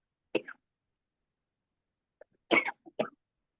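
A few coughs: one short cough, a pause, then a quick cluster of two or three harsher coughs close to the listener, with no talking.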